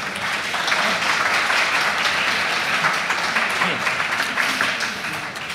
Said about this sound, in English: Most of you know Jacob Ben-Sion Mendelson, and you can applaud now.